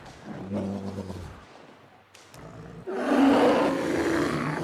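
A bear roars in The Long Dark survival game, a deep, rough growl that swells into a louder sustained roar over a steady outdoor background, with no talking.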